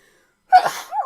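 A single sharp sneeze bursts out close by during a tabletop Dungeons & Dragons game session, followed by a brief voiced exhale, with silence before it and no talking.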